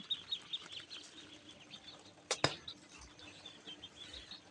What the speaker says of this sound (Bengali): আপনারা দেখতে পাচ্ছেন সব এ গ্রেড খাকি ক্যাম্বেল হাঁসের বাচ্চা